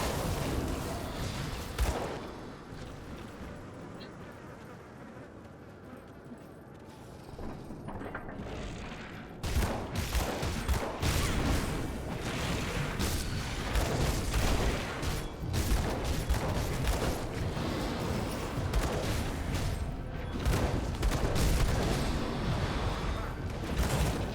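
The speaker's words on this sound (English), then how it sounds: "So many explosions." Dense, relentless explosions from a fire-heavy battle in the action RPG Grim Dawn pound away loudly, a quieter rumble giving way after about nine seconds to an almost continuous barrage of booms and crackling blasts.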